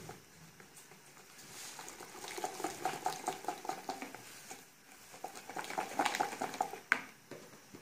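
Flour is stirred into a mixture in a pot for a cauliflower gratin sauce, giving a steady soft scraping and bubbling patter close by. The sound swells in rhythmic strokes, with no voice over it.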